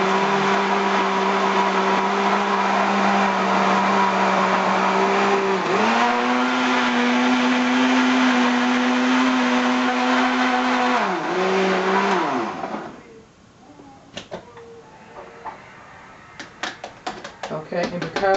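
A blender purees a smoothie with a splash of water in a kitchen, a loud, close whirring roar that shifts pitch midway and cuts off after about twelve seconds, followed by quieter clattering.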